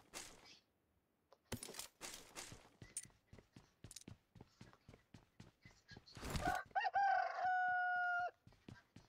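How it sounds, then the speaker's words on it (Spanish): A rooster crows loudly and close by, a long sustained call near the end, preceded by a run of sharp percussive thumps and footstep-like hits in a PUBG match, with no talk over it. "Y ese gallo."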